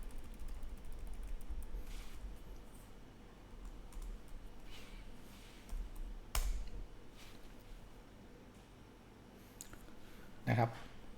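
Scattered keystrokes on a computer keyboard during Windows Server 2022 domain administration, sounding as irregular soft clicks and short bursts against a steady low hum, with a sharper tap near the end and a faint voice at moments.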